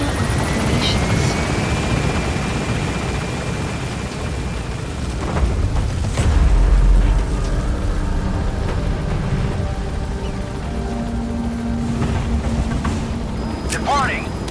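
Helicopter in Metal Gear Solid V gaining altitude after standing by at a landing zone, a continuous rotor and engine roar that swells and deepens midway, with radio-style voices speaking over it.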